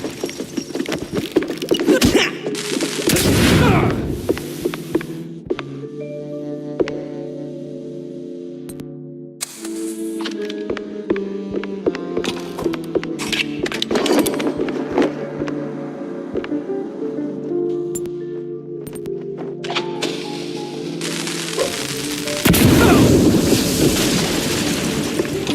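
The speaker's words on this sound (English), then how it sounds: "Pretty sure the fire department frowns on stuffing firecrackers into wooden attics." Firecrackers going off in a wooden attic in the MOUSE: P.I. video game, with loud booming blasts at the start and end and a run of sharp crackles and pops over a tonal game score.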